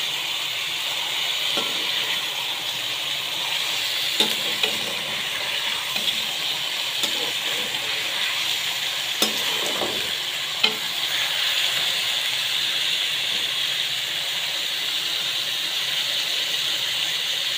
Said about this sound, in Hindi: इन आलुओं को हम हल्का सा फ्राई कर लेंगे, बहुत ज़्यादा फ्राई नहीं करना है, बारीक काट कर हमें हल्का सा फ्राई करना है।